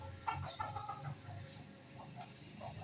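Hens and a rooster cluck and squawk nearby on a small poultry farm. The short, irregular calls are moderately loud, with light background noise between them.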